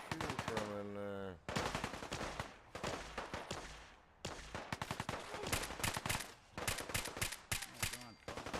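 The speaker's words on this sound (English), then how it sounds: "Where are you shooting from in there?" Rapid, loud bursts of automatic gunfire from the video game Fallout 4 rattle almost continuously, with brief gaps between volleys.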